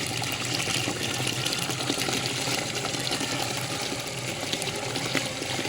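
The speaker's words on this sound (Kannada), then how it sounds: "ನೋಡಿ, ಇಲ್ಲಿ ಜೀವಾಮೃತ ಎಷ್ಟು ಸ್ಪೀಡಾಗಿ ಹೋಗ್ತಾ ಇದೆ ಅಂತ ನೋಡ್ಕೊಳ್ಳಿ" Jeevamrutha, a thick cow-dung liquid manure full of clumps and debris, rushes steadily through a 20 mm drip irrigation lateral, giving a continuous, close watery gush and hiss with no talk.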